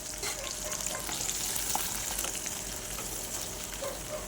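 Green chillies fry in a pan for chutney with a steady, close hiss of sizzling oil and occasional stirring clicks, with no talk.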